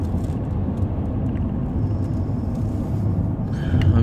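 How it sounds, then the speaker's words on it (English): Inside a van moving through heavy traffic, a low engine drone and road rumble hold steady and loud throughout, with faint passing-vehicle swells in the background. "I'm recording this to see how the sound sounds like as well in my van."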